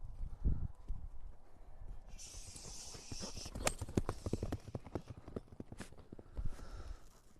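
Hooves of a horse, a Donchak or Chui breed, clip-clop in a quick irregular patter on hard ground nearby, with faint background noise and a brief higher rustle partway through.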